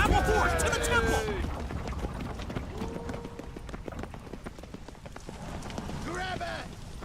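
Rapid horse hoofbeats clatter in a steady galloping rhythm in The Witcher 3, with shouting voices and game sound effects layered over them.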